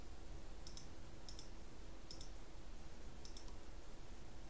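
Calculator buttons are pressed in four faint, distinct clicks spaced about a second apart over a steady low background hum.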